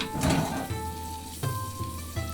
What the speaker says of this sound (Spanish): Le vamos a agregar una parte del ajo que picamos.